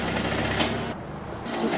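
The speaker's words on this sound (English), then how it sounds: "We start our top stitching on the inseam." A sewing machine top stitches the inseam of denim pants, running in a steady close mechanical chatter that dips briefly before continuing.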